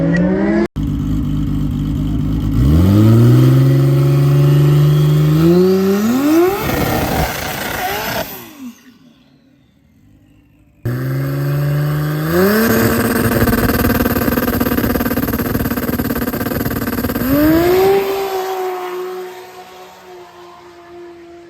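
At a drag racing event, car engines roar loudly and nearby, climbing in pitch through gear changes on two separate runs, with a brief near-silence between the passes.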